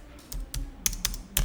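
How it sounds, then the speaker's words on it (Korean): Tab key pressed on a computer keyboard during accounting software entry: a handful of crisp plastic key clicks in quick, uneven succession, close and alone without talk. "그리고 탭키 눌러서"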